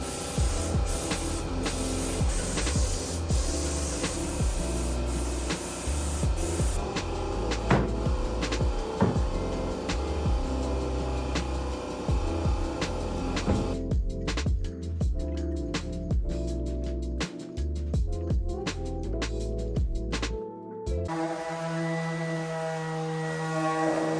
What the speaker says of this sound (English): I also sprayed 2 coats of the same green cabinet color